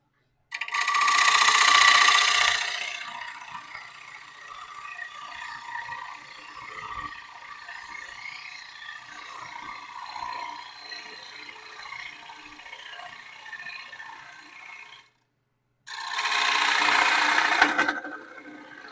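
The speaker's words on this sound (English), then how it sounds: "We're taking, a good eighth of an inch off. And that's a little heavy for this gouge." A woodturning gouge takes a heavy cut on a lathe, giving a loud, bright hiss of shaving wood at the start and end around a quieter steady whir of the spinning workpiece.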